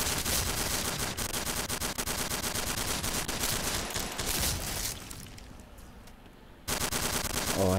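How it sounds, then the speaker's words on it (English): Shotgun fire in a video game: loud, dense bursts of blasts follow each other rapidly for about five seconds, ease into a quieter stretch, then resume abruptly near the end. "Oh, I hate this shotgun."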